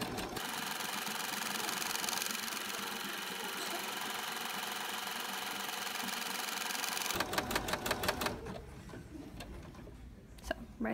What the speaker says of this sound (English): Just hold on to that string, and your machine will do everything else, and it'll let you know when it's done making